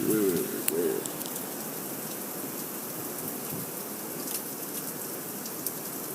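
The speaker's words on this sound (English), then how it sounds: "Ooh, man, that storm's scary." Rainstorm outside a front porch, a steady hiss of rainfall at moderate distance with occasional drips, with a bird cooing briefly at the start and faint voices in the background.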